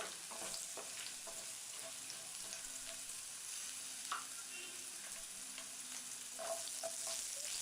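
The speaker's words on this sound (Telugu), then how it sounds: "ఇలా 2 నిమిషాలు ఫ్రై చేసిన తర్వాత" Potatoes fry in a pan with chana dal for a Telugu aloo fry, producing a continuous sizzle with scattered pops and occasional stirring taps, no voices.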